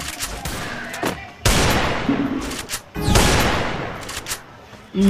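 Bursts of gunfire in the Free Fire battle royale game, two loud sustained volleys of rapid shots separated by brief pauses, with a sharp single report at the end.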